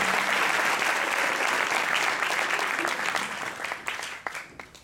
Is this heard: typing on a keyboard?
no